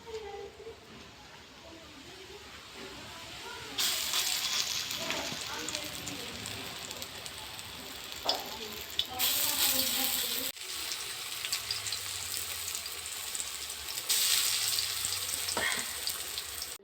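Banana flower fritters drop into hot oil in a wok, the sizzle swelling into a loud, dense frying hiss that rises and falls as more batter goes in, with occasional soft clinks.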